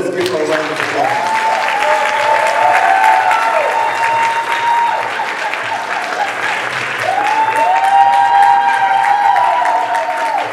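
An audience at an awards ceremony breaks into loud, sustained clapping that fills the room and holds steady throughout. Some cheering and crowd voices mix in with the applause.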